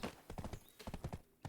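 Horse hooves clip-clop in a quick, regular gallop in Black Desert Online, a run of soft close thuds that pauses briefly and resumes, fairly faint, with no talk over it.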